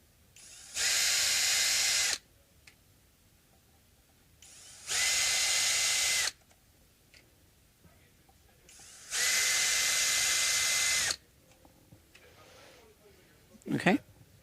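A power drill backs screws out of a Gibson Les Paul guitar in three steady whirring bursts of about one to two seconds each, with quiet handling noise between them.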